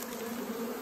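A honeybee swarm gives a steady, dense buzzing hum, close and continuous throughout, with no voices.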